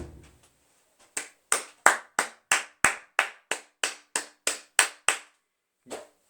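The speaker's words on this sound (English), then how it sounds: "Hold on, because I'm going to applaud you." A lone person on a commentary show claps slowly and deliberately, about a dozen crisp, evenly spaced claps close to the microphone, followed after a pause by one more, with a brief bit of talk at the start.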